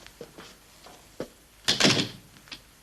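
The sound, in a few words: office door being shut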